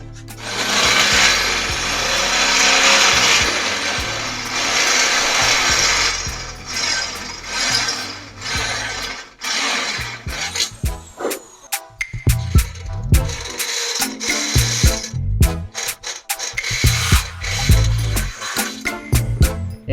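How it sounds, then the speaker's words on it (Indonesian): A larger drill bit bores into a motorcycle frame while fitting a Tiger engine mount to a GL frame, a loud continuous grinding at first that breaks into choppy bursts and pauses as the bit works through the metal. "Ini langkah yang kedua, jadi menggunakan mata bor yang lebih besar."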